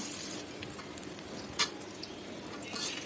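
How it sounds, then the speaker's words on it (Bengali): Bitter gourd fries in hot oil with a steady, soft sizzle and faint crackle, broken by a single sharper clink of a utensil partway through, close and without voices. "লাল লাল করে ভেজে নেব।"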